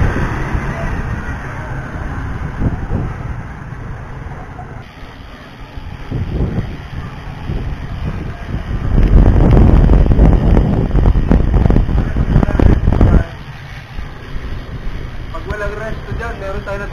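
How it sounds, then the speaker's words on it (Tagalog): Steady wind rushing past, buffeting the microphone in gusts, strongest midway, with water and a boat motor faintly underneath, at a sea wall in Mauban. "Napakasariwa ng simoy ng hangin."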